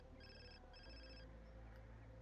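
A telephone rings in The Sims 4, two bright electronic rings in quick succession over a steady low game background hum, then the hum carries on alone.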